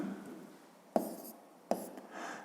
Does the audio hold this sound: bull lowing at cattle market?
no